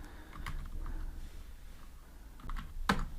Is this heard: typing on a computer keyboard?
yes